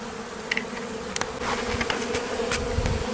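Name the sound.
honeybees buzzing in the air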